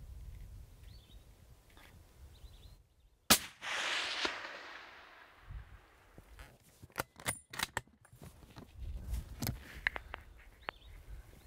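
A rifle shot rings out once while hunting plains game in Africa, a single sharp crack with a fading tail, followed by rustling, clicks and faint birdsong in a quiet outdoor setting.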